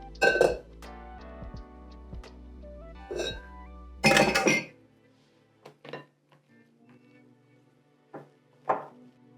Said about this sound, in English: we can start just using the spatula to mix everything